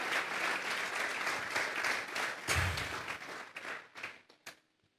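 A church congregation applauding during a sermon, steady and dense clapping that swells, then thins into a few scattered final claps.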